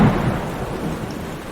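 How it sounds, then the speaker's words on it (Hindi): Thunder rumbles low and heavy through a nighttime storm with strong winds and rain, a continuous rolling roar at steady volume. "अचानक तेज हवाएं चलने लगी और बादल गरजने लगे"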